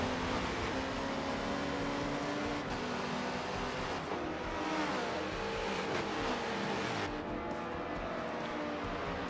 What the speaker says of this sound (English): Seems like a couple slow LMP cars there going to the S's.